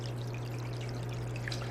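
Water flows full and steady through a siphon into a reef aquarium sump chamber, a constant close pouring rush over a low pump hum, with no talk.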